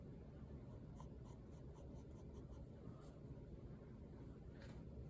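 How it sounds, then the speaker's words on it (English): A dark pencil drawing outline strokes on paper, with a run of short, quick scratchy strokes close to the microphone and a couple of isolated marks later, over faint background hiss. "I'm going to go in with a darker pencil, I think, to get all of these outside lines"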